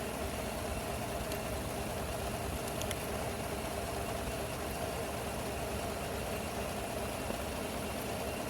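A direct-injection gasoline car engine idles with a steady, even hum and faint ticking, close and continuous throughout with no voices.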